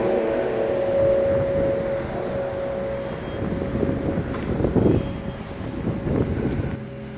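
Gusty wind buffets a microphone outdoors behind a police station where vehicles come and go, rumbling low and unsteady throughout with stronger bursts in the second half and no voices.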